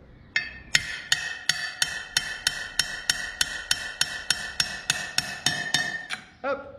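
Metal tool taps repeatedly on a tube to drive out a bearing from a Solex moped motor, about fifteen sharp, evenly spaced ringing knocks close up, ending with a final scraping clunk.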